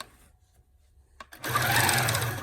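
Longarm quilting machine stitching around a ruler on a Dresden plate quilt: after a quiet stretch with a couple of small clicks, the motor kicks in and runs as a steady, loud mechanical whir that holds to the end.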